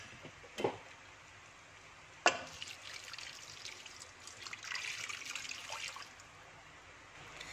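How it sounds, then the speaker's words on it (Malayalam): Water is poured into a pan of Kerala-style kalanchi fish curry, a soft, quiet liquid trickle and splash with a sharper burst midway and a longer pour toward the end. "അപ്പം നമുക്ക് ബാക്കി വെള്ളം കൂടി ചേർത്ത് കൊടുക്കാം."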